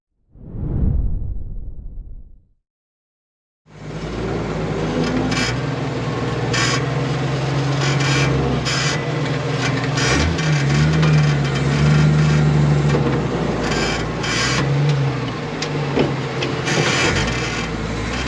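A Jeep with a 4.2 engine and a Weber carburetor conversion drives along with a steady, continuous engine and road rumble, after a brief low thump at the start and a short gap of silence.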